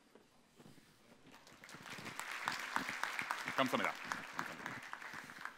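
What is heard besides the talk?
audience applause at keynote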